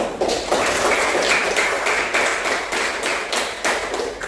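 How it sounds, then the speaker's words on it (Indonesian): Classroom applause from a group of students, a burst of clapping that holds steady and loud for a few seconds with a few sharper claps standing out, and no talking. "Tepuk tangan dulu."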